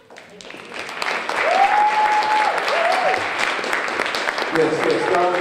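Audience at a poetry event bursting into applause after a reading, clapping swelling up quickly and holding steady, with cheering and voices calling out over it.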